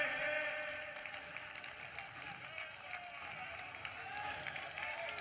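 A crowd applauds loudly to welcome party leaders at a BJP event. The clapping is a steady wash of sound that lasts the whole clip, heard at a moderate distance with faint voices mixed in.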